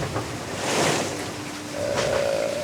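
Southern Ocean waves surging around a racing IMOCA sailboat, with a loud rushing wash of water swelling twice, wind buffeting the microphone, and a thin tonal whine from the boat rising in the second surge.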